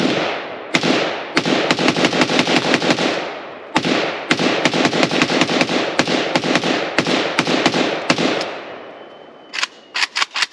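A Romanian Nova CGR AK rifle fed from a Magpul P-Mag fires at an outdoor range, loud sharp shots in rapid strings broken by brief pauses, with a final quick cluster at the end.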